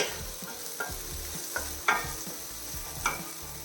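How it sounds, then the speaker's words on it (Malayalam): Chopped tomatoes sautéing in a pan over a medium flame give a soft, steady sizzle, with occasional light scrapes and taps of a stirring spoon, heard close and without any talking. "മീഡിയം ഫ്ലെയിമിൽ വെച്ചിട്ട് വഴറ്റിയെടുത്താൽ മതി"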